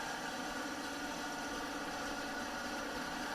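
Embroidery machine sewing out a continuous design, a steady faint mechanical hum with rapid fine rhythmic stitching texture, constant throughout and without talk.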